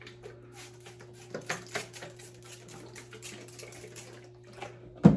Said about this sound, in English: So I'm just gonna put a little bit of water.